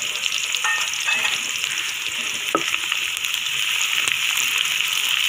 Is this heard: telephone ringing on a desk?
no